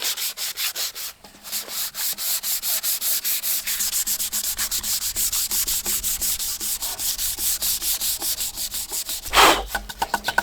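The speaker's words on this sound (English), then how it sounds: "So now we got it all sanded down." Wood is sanded by hand to strip old varnish, a steady rhythmic scrubbing that repeats in even strokes, close and loud, with a brief bump near the end.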